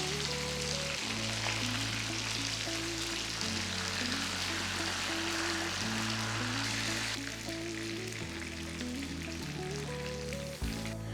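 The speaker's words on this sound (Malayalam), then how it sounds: "അടുത്ത സൈഡ് ഇതുപോലെ ബ്രൗൺ ആകുന്ന വരെ കുക്ക് ചെയ്യാം. നമ്മൾ 2 സൈഡും ഫ്രൈ ചെയ്തു എടുക്കാം." Chicken pieces for Payyoli chicken fry sizzle in hot oil, a dense continuous crackle and hiss lasting throughout, close and steady, over a low background hum, with no voices.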